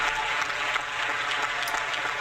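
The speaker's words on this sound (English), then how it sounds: "I think we should give you a round of applause" Applause after a livestreamed retro NES bowling game, a steady dense clatter of clapping held at even loudness throughout with no voices.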